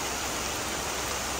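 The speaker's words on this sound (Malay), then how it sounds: "Hujan tu makin lebat." Heavy rain pours down at Kg Nyamok campsite in Pos Sinderut, a dense, unbroken hiss that stays loud and even throughout, with no voices.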